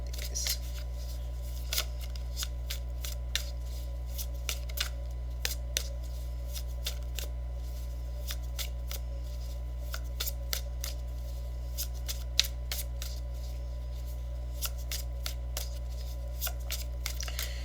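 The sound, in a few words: shuffling and drawing tarot cards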